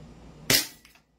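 A single sharp gunshot rings out close by, loud and abrupt, with a short decaying tail and a faint rattle afterward.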